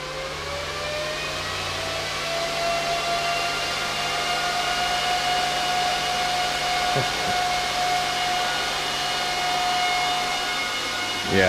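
Ice River KS1 Kaspa ASIC miner with its cooling fans spinning up, a steady loud whirring drone with rising tonal whine, running alone without talk.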